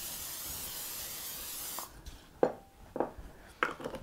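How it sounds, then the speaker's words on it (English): A steady broadband hiss of nonstick cooking spray coating a pie plate for nearly two seconds, then stops, followed by a few sharp clinks and taps of dishes nearby. "I'm just going to spray it with some nonstick spray."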